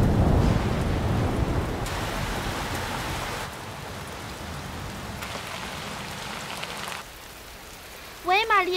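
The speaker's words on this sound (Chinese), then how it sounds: "我们这儿下大暴雨" A heavy rainstorm pours down as a dense, steady hiss that shifts slightly in strength, then eases near the end, where a short electronic chirp cuts in.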